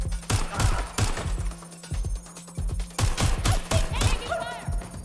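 Video game gunfire crackles in rapid bursts of loud, close shots with brief pauses between volleys, and whooshing effects trail near the end.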